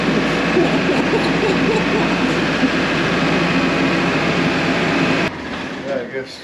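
Plow truck engine idling, a steady loud low rumble that cuts off sharply near the end, with voices talking over it.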